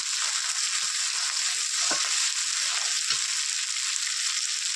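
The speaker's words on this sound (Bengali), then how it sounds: "লঙ্কা বাটা দিয়ে দিলাম, দিয়ে ভালো করে নাড়াচাড়া করে নিতে হবে।" Red chili paste, along with cumin paste, sizzling steadily in hot oil for a Bengali egg curry, a constant bright fry hiss with a couple of soft stirring scrapes, no talking.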